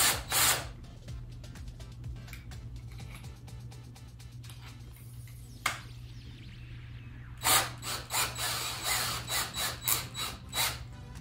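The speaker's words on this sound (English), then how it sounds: "so now I'll drill the holes for these" A power drill whirs in short bursts, with quiet stretches between, then several rapid spurts of drilling near the end.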